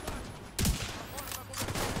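Gunfire in The Division 2 video game, with a heavy burst of shots near the start followed by a steady, dense rattle of weapon fire and explosions continuing loudly throughout.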